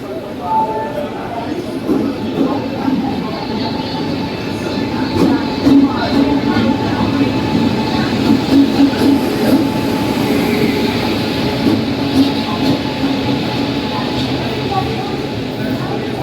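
A long-distance passenger train on the Hyderabad to Odisha route rumbles along the rails. Its steady, loud clatter and roll continue throughout, with indistinct voices faintly underneath.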